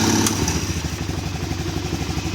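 A 1996 Polaris Marauder 425 4x4 ATV engine idles close by after starting, a steady, loud, chugging putter with rapid even pulses and a faint mechanical clatter throughout.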